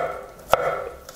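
Two sharp knife chops through garlic on a cutting board, spaced about half a second apart, close and fairly loud over a quiet kitchen background.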